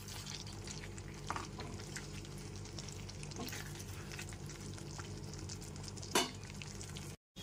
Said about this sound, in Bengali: 2 থেকে 3 মিনিট খুব ভালো করে কষিয়ে নিতে হবে আলু পটল দিয়ে